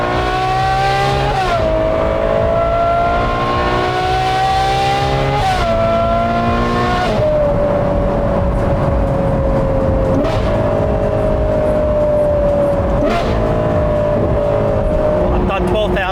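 A Ferrari 812 GTS with the Novitec N-Largo kit drives with its V12 engine droning loudly and steadily, the exhaust tone rising and stepping through gear changes, heard from inside the car.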